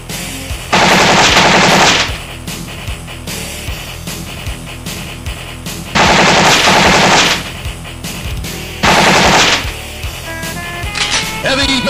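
Heavy machine gun fire from the Metal Slug arcade game comes in three loud, dense bursts of rapid shots, each lasting about a second, over constant game music and effects.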